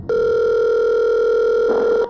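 A telephone sounds one steady electronic tone for about two seconds, loud and clean, with no voices.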